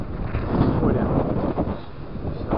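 Strong north wind blowing across Lake Onega in the Leningrad region roars steadily into the microphone as broad, constant buffeting rumble, loud and close, with faint talk barely audible beneath it.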